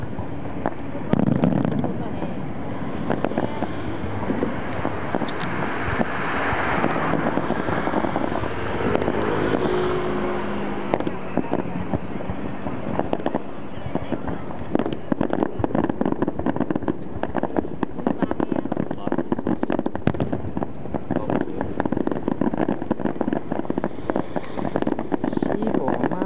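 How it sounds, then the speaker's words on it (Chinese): Aerial fireworks show bursting high over Xiluo Bridge during a Mazu procession, a steady roar of distant booms and crackles under wind buffeting on the microphone, with crowd voices mixed in. "烟火在移动。"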